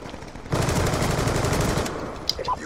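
Light machine gun firing in a video game, one sustained loud automatic burst of about a second and a half, then a quieter tail with a single sharp click-like shot.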